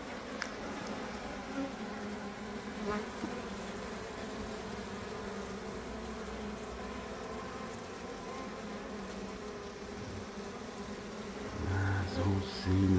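A honey bee swarm drones steadily during a swarm rescue, a continuous low buzzing close by throughout, with a few louder humming swells near the end as bees move about.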